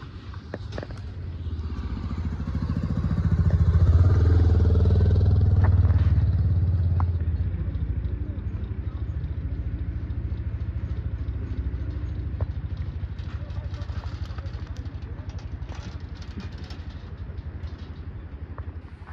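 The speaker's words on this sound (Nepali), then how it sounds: "ल अर्को बाइक पो आयो यार" Another motorcycle on the Kaligandaki corridor road in Nepal approaches, swells to a loud rumbling pass around the middle, then fades, while a steady motorcycle engine drone continues underneath throughout.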